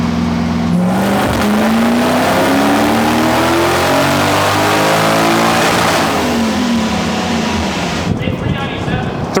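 A supercharged V8 drift truck strapped to a dyno revs hard through a long full-throttle pull, loud and close, its engine note rising steadily before easing off near the end.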